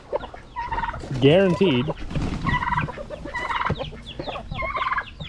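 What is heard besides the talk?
turkeys gobbling excitedly in the background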